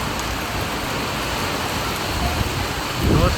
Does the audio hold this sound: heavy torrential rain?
yes